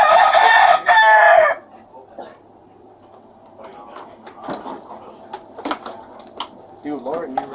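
A person imitates a rooster's crow with a loud, brief cock-a-doodle-doo, about an illegal cockfighting event. Quieter scattered talk and bumps follow.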